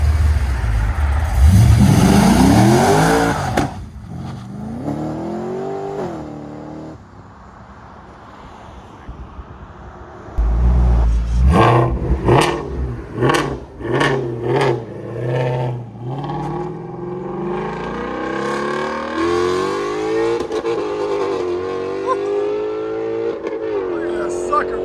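A race car pulls away hard in a drive off, its engine shrieking loudly at first, then rising again through a series of sharp rapid revs and gear pulls before fading into a steady distant drone.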